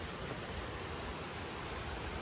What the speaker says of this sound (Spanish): Miren, allá está ya la cascada.